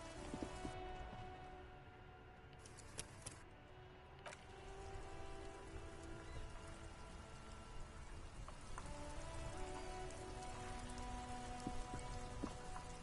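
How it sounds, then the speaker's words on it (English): Continuous rain in the video game Disco Elysium, a steady patter on surfaces with scattered drips, moderately loud and unbroken, with faint tonal ambience underneath. "It's raining again."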